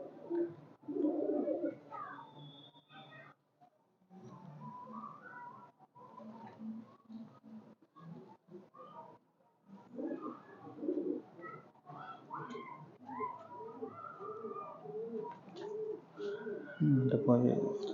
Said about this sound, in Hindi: कुछ बर्ड्स का आपको शो करवाते हैं